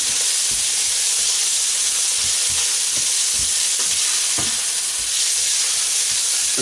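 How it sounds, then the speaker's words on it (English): Raw bacon stir fries in a very hot pan for breakfast fried rice, a loud continuous sizzle and hiss with soft knocks of stirring throughout and no voices. "This all goes very quick in a very hot pan, because we are stir frying here"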